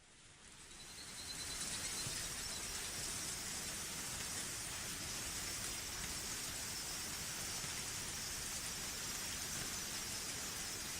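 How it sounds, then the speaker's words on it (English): Steady, dense rainfall from the Higurashi When They Cry visual novel, a continuous hiss of pouring rain that swells in over the first two seconds and then holds constant with no voices. "Oh good, it's still raining."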